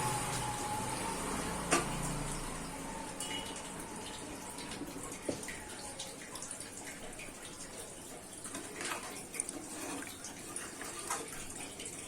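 Water saved from boiling the meat is poured into a pan of mutton kosha, making a soft splash and a faint bubbling sizzle that continue quietly, with no talking.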